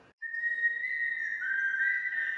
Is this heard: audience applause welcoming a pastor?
no